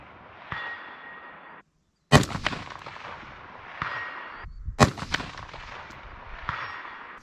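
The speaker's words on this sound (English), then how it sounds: "Good 4-shot group, all like that at 420." Rifle shots fired at a 420-yard target using a .223 load of 28.5 grains of CFE 223 powder: two sharp, loud cracks spaced about three seconds apart, each with a short ringing echo, separated by stretches of steady background hiss.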